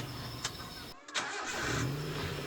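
Car engine starting after battery maintenance: after a brief lull the starter cranks and the motor catches, then settles into a steady idling hum, heard close.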